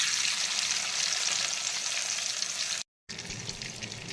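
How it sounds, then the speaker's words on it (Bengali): Butter melting in hot mustard oil makes a dense, even hiss of frying that runs steadily, drops out for a split second, then resumes at the same strength, with no talking. "সর্ষের তেলটা কিন্তু ভালো মতো গরম হয়ে যাচ্ছে, এখন আমি দিয়ে দিচ্ছি বাটার"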